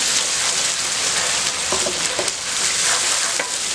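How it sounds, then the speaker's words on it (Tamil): Onions fry in hot oil until browned, a steady dense sizzle filling the whole stretch with small crackles and pops scattered through it, close and fairly loud with no talk. "வெங்காயத்தை இந்த மாதிரி நல்லா செவக்க இந்த எண்ணெயிலேயே நல்லா வறுத்துக்கணும்"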